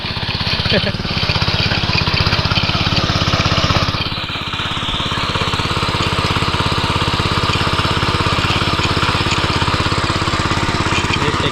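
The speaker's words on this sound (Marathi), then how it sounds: "टेक्सची नवीन मशीन घेतली दादाने" A new Texas-brand tiller ploughs a farm field, its engine chugging loudly and continuously at close range, with a steady rapid pulse and a brief dip in load midway.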